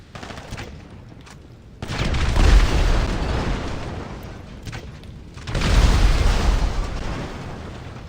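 Two heavy grenade blasts burst in GTA 5 Online, each a loud boom with a rumbling tail, a few seconds apart amid a din of game noise.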